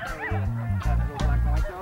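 A dog barks excitedly while running a mountain boarding course outdoors, giving a quick string of loud, close yips and barks with a slightly whimpering edge.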